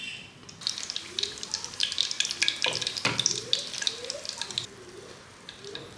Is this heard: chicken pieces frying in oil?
yes